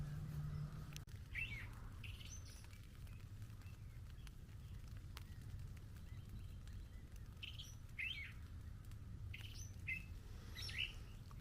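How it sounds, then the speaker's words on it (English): Scattered bird chirps and tweets at about 7 a.m. on a wet morning after rain sound at a distance over a steady low outdoor rumble, in small clusters with quiet gaps between. "you can hear the birds now"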